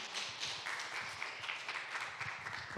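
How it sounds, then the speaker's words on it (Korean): Audience applause welcoming a newcomer at a young adults' church fellowship gathering, a steady spread of many hands clapping at moderate distance with a faint room murmur underneath. "다시 한번 박수로 환영해 드릴게요"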